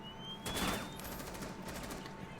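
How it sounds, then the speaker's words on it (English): Gunfire in a competitive shooter video game match sounds as a rapid fusillade of shots bunched near the start, followed by quieter rattling bursts under a steady game background hum. "he chased Zelo into his friendly gunfire"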